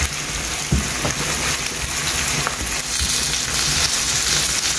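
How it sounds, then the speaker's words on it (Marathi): Finely chopped onions fry in a pan with curry leaves for dal, giving a loud, steady sizzle with faint pops and no talking. "आतां घालता आमचे फायनली चॉप्ड ऑनियन्स घालून दिया बरो मिक्स ओके"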